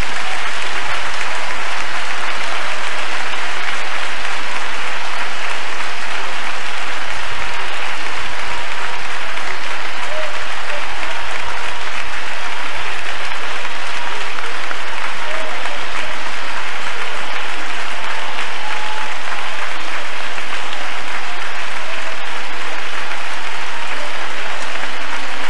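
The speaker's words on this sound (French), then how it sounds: "Jésus-Christ un applaudissement royal" A church congregation gives sustained, dense applause for Jesus, a loud and steady wash of clapping from many hands that lasts throughout.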